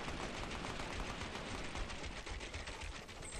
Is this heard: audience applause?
no